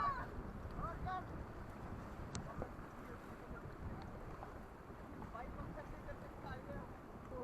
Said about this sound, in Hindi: चलाओ भाई चलाओ एक साथ पैडल फास्ट अगेन।